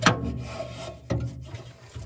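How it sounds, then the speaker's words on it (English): Pliers wiggling and pulling the igniter wiring of a Green Mountain Daniel Boone wood pellet smoker through a metal tube, making two short scraping rubs about a second apart, close and dry, without speech. "I'm going to need to pull the igniter out and the wiring through this tube"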